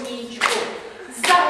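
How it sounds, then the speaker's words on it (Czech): Two short bursts of hand clapping from a group of children, close by, separated by a brief pause, with no talking over them. "Zatleskáme"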